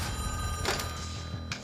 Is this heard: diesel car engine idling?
no